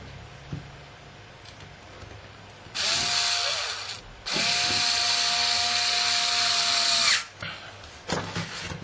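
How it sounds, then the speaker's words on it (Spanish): Power screwdriver driving four screws into the metal enclosure of a hard drive, two long loud whirring bursts with short mechanical clicks and faint handling noise between, close and alone. "Colocamos los 4 tornillos."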